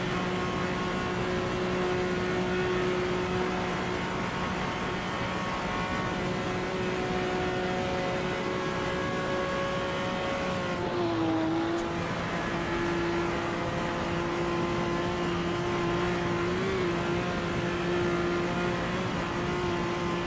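A vintage race car engine in Assetto Corsa, running the Le Mans circuit near the Mulsanne Kink during a WSC60 race, holds a steady sustained drone with a brief dip and shift in pitch partway through.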